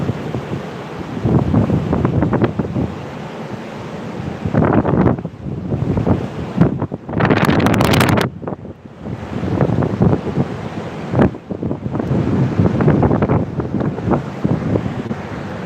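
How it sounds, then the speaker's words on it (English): Loud, gusty Hurricane Ian wind buffets the microphone in heavy surges at Wrightsville Beach, North Carolina, with a steady wash of rain or spray roaring underneath and brief lulls between gusts. "we're getting a little rain here again"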